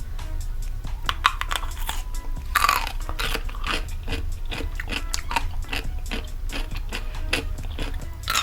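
Crisp bites and steady crunchy chewing of a cheap Japanese snack, close to the mic, with repeated crackling crunches and no talk.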